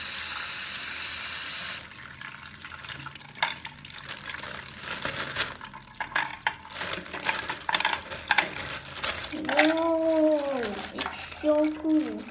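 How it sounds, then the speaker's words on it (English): Water runs and splashes into a container pierced with holes, a steady pouring hiss with rising gurgles toward the end, while a person talks at times. "I fill it up to show that all holes will have water coming out of them."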